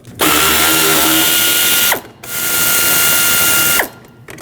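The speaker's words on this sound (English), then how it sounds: "Use a 7mm socket to remove the 2 bolts holding this down" Two long bursts of a 7mm socket ratchet spinning out the hood release lever bolts under the hood of a 2013-2019 Ford Escape, each close and loud with a rising whir, separated by a brief pause.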